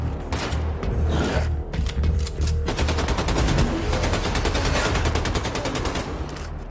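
Rapid automatic gunfire from the video game Wolfenstein II: The New Colossus, loud sustained bursts of shots with a fast, steady rhythm running through the whole stretch, no talk over it.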